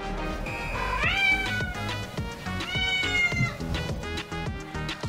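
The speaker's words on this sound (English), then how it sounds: "My cat can't stop meowing" A pet cat meows repeatedly, with a drawn-out rising meow followed by more calls, close and clear over soft background music.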